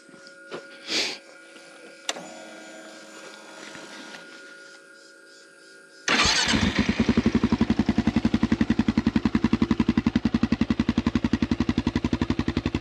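A Kawasaki KLR650 motorcycle fitted with a Delkelvic exhaust and air injection mod starts up and idles loudly with a rapid, steady thumping pulse, close by, after a few seconds of quieter mechanical noise.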